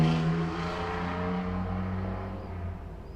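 A loud car revs outside, its engine droning steadily and then slowly fading.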